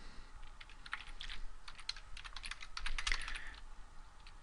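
Rapid light keystrokes on a computer keyboard while entering text into an Excel 2013 spreadsheet, a soft steady patter of clicks heard close and alone with a faint background hiss.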